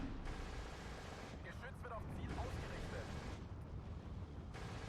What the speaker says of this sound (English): So many mortar rounds coming in.